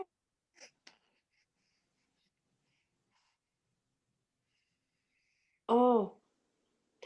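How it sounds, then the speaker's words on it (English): A baby gives one short, voiced yawning sigh near the end, preceded by a few faint soft sounds in an otherwise quiet room. "that's a big yawn"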